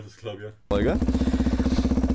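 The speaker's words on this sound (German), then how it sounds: "ihr seht, damit machst du dir keine Freunde mit so einem Auspuff" Loud motorcycle exhaust: a sudden, loud rhythmic engine putter starts right after a short burst of speech and keeps a steady pulsing beat to the end.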